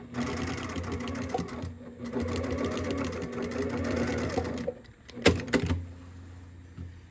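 A sewing machine stitches fabric for a zippered bag in two steady running bursts with a short pause between, then a brief clatter and a soft thump near the end, close and clear.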